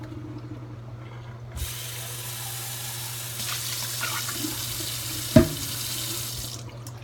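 Angry Orchard Crisp Apple hard cider is poured down a sink drain, a close, steady running splash lasting about five seconds, with one sharp clink near the end.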